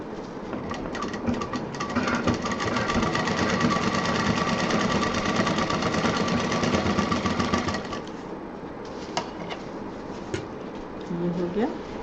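A sewing machine runs in a steady, fast whir as bag pieces are stitched together, then stops, leaving a few clicks and light handling sounds.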